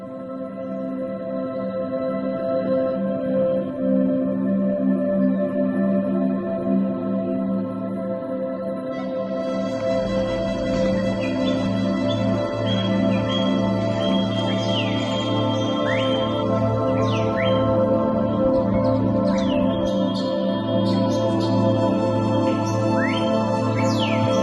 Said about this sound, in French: les perroquets sont présents